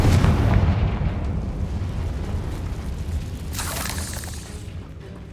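Confringo blasting spell explosion in Hogwarts Legacy inside a decayed catacomb, a heavy rumbling blast that starts loud and slowly fades, with a brighter crackling burst near the end.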